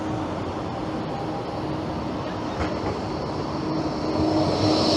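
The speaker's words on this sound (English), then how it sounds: "I've got a tram coming now that's going to come quite close." A Liverpool tram rumbles past at close range, a steady loud rail roar with a faint metallic whine that builds slightly toward the end.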